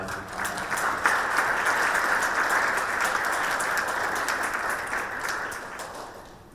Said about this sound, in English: I invite my panelists to come on stage and please clap for them as they come.